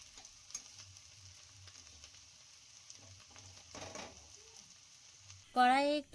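Boiled potatoes fry gently with salt and turmeric in a pan, a soft, low sizzle with occasional stirring clinks, followed by a short loud burst of voice at the end.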